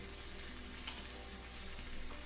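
A buttered Reuben sandwich frying in a pan gives off a steady, dense sizzle, crackling evenly throughout at moderate loudness, with no talk.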